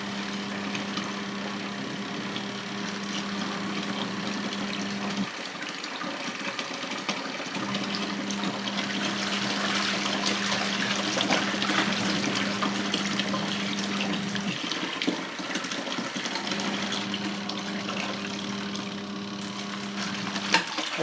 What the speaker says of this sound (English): I've turned on the tap again and we've got some more water entering the wash tub